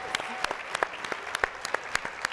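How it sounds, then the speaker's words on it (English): Scattered applause for contestants at a school nutrition event, made of a handful of separate, fairly sharp claps from a small audience, moderately near and without talk. "another round of applause for our contestants"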